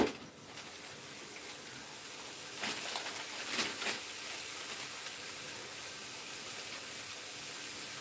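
Three burger patties sizzle on an outdoor barbecue, giving a steady, broad hiss that holds evenly throughout, with a couple of brief crackles and pops partway through.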